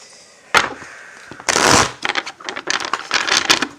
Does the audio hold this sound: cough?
no